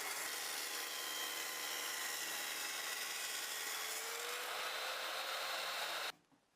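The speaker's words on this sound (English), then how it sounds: "I used a table saw to remove that so that I could have a nice straight edge for the glue up" A table saw trims the chamfered edge off an oak board in one continuous, steady rush of cutting noise that stops abruptly near the end.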